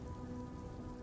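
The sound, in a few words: rain falling in the visual novel game Blossoms of Eternity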